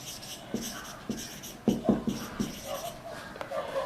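A marker or chalk writes the word radium on a classroom board during a chemistry lecture, giving a run of short, faint scratching and tapping strokes with small pauses between letters and no talk.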